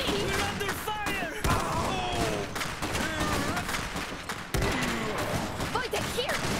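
Battle gunfire in the Iron Harvest strategy game crackles in scattered bursts and volleys of shots amid shouting voices and game sound effects, fairly dense throughout.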